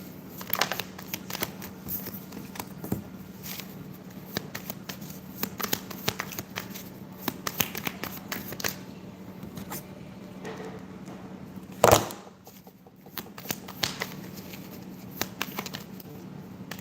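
Tarot cards being shuffled by hand during a live reading: a soft, faint, continuous riffling and rustling, with one sharper clack near the end.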